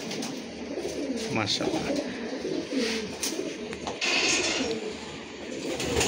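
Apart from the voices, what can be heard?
pigeon cooing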